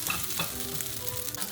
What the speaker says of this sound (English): So I'm going to kick it around for like another minute or 2 to make sure all the rice is all cooked.